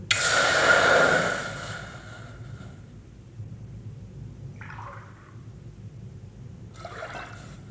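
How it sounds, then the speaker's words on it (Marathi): About one and a half glasses of water poured into a cooking pan, a loud splashing gush at the start that trails off, followed by quieter kitchen sounds and a brief later trickle. "आता आपण एका पातीला दीड ग्लास पाणी टाकून ते पाणी गरम करून घेऊ"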